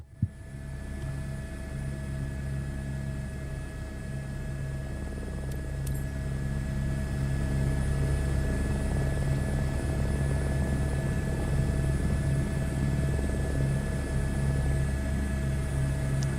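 Simulated H125 helicopter taking off in a flight simulator game, a steady droning rotor and turbine hum with a whining tone that builds slightly in loudness, continuous and without speech.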